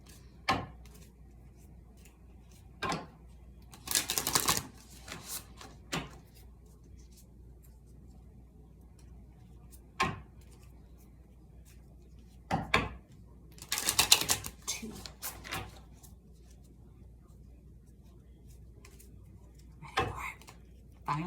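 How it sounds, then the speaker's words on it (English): A deck of tarot cards is shuffled in several short bursts of riffling and flicking, close and fairly quiet, separated by near-silent pauses. "I'm going to shuffle"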